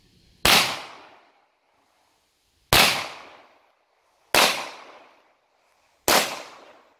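Four outdoor gunshots ring out one at a time, each a sharp crack trailing into a short echoing decay, spaced roughly two seconds apart against near silence.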